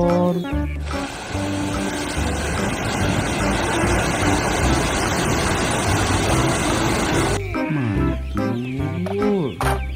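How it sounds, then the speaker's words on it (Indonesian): A toy tractor gives off a loud, buzzy electronic engine rumble that holds steady for several seconds before cutting to sweeping electronic tones. "Ada traktor."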